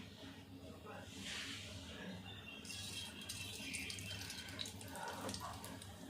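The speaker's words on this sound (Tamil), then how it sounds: "இப்போ வந்து கடுகு போடலாம்" Mustard seeds dropped into a spoonful of hot oil in a pan for a carrot stir-fry, giving a steady, fairly faint sizzling hiss that swells at moments, with a voice talking over it.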